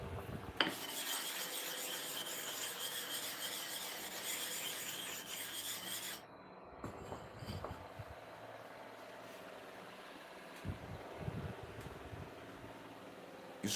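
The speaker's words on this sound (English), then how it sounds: "the procedure, step by step I'm using to sharpen the clipper blade" A clipper blade is sharpened with a continuous close gritty rasping and rubbing for several seconds, then it breaks into shorter scraping strokes and light clinks of metal.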